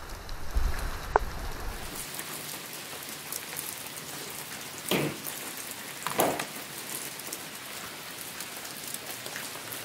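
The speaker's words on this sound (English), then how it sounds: "this rain is supposed to quit" Rain pattering steadily on a surface, with a few louder close bursts and a sharp tap near the start; no one speaks.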